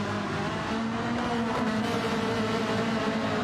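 Ferrari race cars, including the VPR Ferrari, roar in a Ferrari eChallenge Coppa Shell Am class sim racing game, a loud, continuous engine drone with no voices over it.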